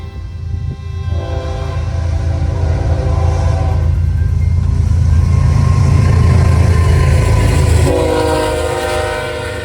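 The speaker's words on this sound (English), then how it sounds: "an eastbound S-stack intermodal came through with another H1-9" An eastbound double-stack intermodal freight train on the BNSF Emporia Sub roars past close by, a loud sustained rumble and rail clatter with blasts of the horn at the start and end.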